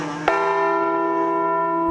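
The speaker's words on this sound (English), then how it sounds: "A bell toll for those Marines who died since last Memorial Day" A single memorial bell tolls at an outdoor Memorial Day ceremony honoring fallen Marines, struck once with a sharp onset and then ringing on in a long, steady, sustained hum that slowly decays, with no voices.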